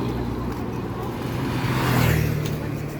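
A motorcycle passes along a busy street by a dried-fish shop, its engine swelling to a peak midway and fading, over steady traffic hum with faint voices.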